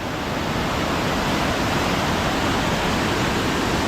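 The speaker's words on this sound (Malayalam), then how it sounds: "അല്ല വെള്ളം കുതിച്ചു പോണത്" Loud, steady roar of rushing water at Kakkadampoyil filling the whole clip, broadband and unbroken like a torrent close by, with no voices.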